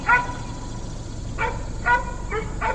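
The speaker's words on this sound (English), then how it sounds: "barking away. I don't think he's barking at me though." A dog in a hilly rural West Virginia town barks several times at a moderate distance, sharp single barks spaced irregularly over quiet outdoor background hiss.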